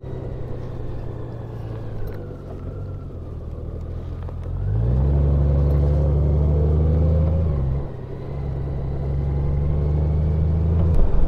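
A Honda Goldwing motorcycle, dirty from a long road trip, is ridden at road speed, its engine droning loud and near with a steady rumble that swells when the throttle opens, eases, then picks up again.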